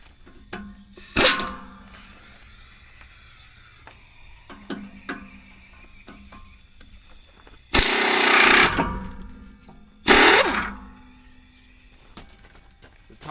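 Impact wrench on bolts of a corn sprayer: two loud bursts of rattling hammering, one about a second long and a shorter one later, plus a few sharp knocks and clanks between quiet gaps.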